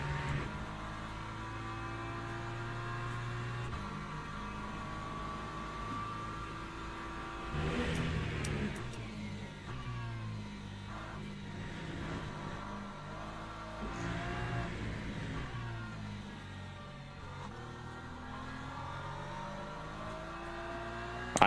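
An LMP2 race car in Le Mans Ultimate, engine revving hard as it runs through the Spa circuit, rising and falling through gear changes among other cars, with no talk.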